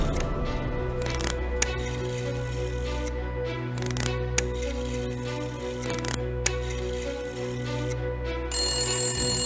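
A telephone rings in repeated bursts over a low steady hum, the electronic trill returning several times at regular intervals.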